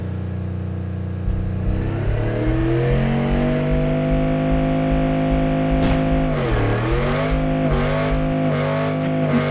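Racing car engine from an Xbox One racing game revs loudly and alone, its pitch climbing through gears with brief dips at each shift before pulling upward again.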